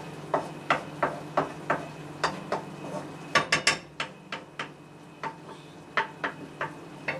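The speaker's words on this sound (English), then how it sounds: "we're going to continue mixing, always mixing all the time" A spoon or spatula stirs sweet and sour chicken sauce simmering in a pan, scraping in a steady series of sharp clicks and knocks about every third of a second over a low bubbling hum, close and fairly loud.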